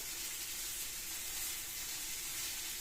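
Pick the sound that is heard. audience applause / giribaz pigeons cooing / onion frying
onion frying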